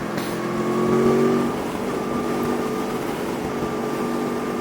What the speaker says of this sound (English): The noise out the engine is great.